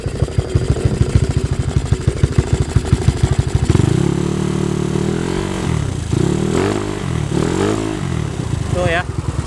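A Honda Vario 110 scooter engine, bored up to 54.5 mm and stroked 2 mm, idles with a rapid, choppy pulse, then revs up several times in close, loud bursts.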